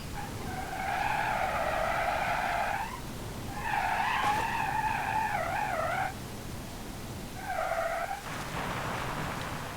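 A car in the BeamNG.drive video game lands and skids, its tires squealing loudly in three long, wavering bursts separated by short gaps, over a steady engine rumble.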